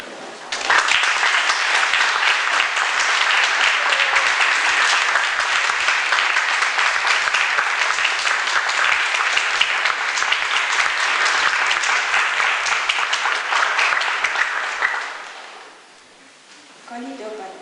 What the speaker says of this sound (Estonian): siinkohal on suur aplaus vanematele